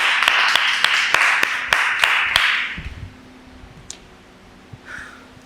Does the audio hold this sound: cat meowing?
no